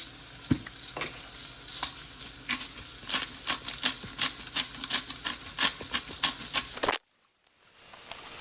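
Zucchini sizzles and fries in a pan with salt and pepper, a steady crackling hiss broken by rhythmic scraping strokes of a utensil stirring, close and clear, before the sound cuts off abruptly near the end.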